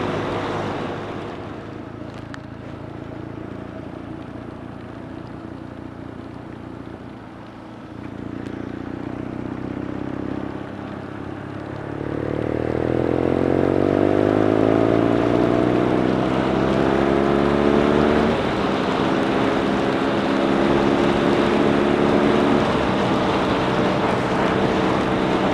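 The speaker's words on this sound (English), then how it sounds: "now for the first time up to 70 miles an hour on this dual carriageway" A BMW R nineT Scrambler motorcycle accelerates up to speed along a wet dual carriageway in the rain, its engine note rising steadily and loud over constant wind and road roar.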